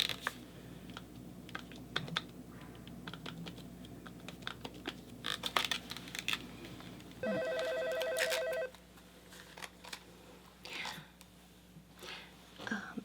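Telephone ring tone sounds as a call is placed to a home-shopping service in a 1990s setting, a steady electronic ringing burst preceded by soft keypad taps and quiet whispered talk nearby.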